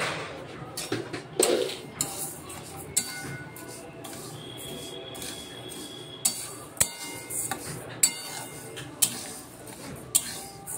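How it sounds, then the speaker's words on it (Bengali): A spoon stirs dal (lentils) for khichuri in a metal cooking pot, sharp clinks and scrapes against the pot at irregular intervals over quiet kitchen background. "তাই এবার আমি ডালটাকে নাড়ছি, দেখো বন্ধুরা"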